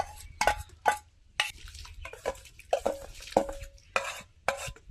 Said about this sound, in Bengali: এবার আমি ধুয়ে রাখা চাল ডাল সব দিয়ে দেবো